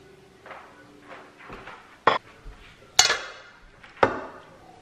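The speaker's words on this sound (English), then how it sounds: "To have a scoop of rice." A utensil scoops rice from a pot, giving three sharp metallic clinks spaced about a second apart, preceded by soft scraping and handling sounds, close and fairly quiet.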